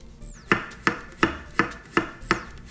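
A knife chops green onion on a cutting board in a home kitchen, with six crisp, evenly spaced strokes at a steady rhythm, close and clear, and no talking.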